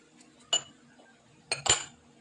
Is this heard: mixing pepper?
yes